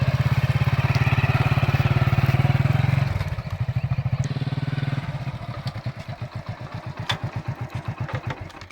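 A motorcycle engine runs nearby, a loud, steady pulsing idle that steps down in pitch and then putters more unevenly with rhythmic thumps.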